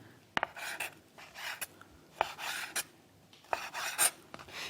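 A knife slices squid on a cutting board in a home kitchen, giving a series of short, sharp cuts and scraping strokes at an uneven rhythm, close and fairly quiet.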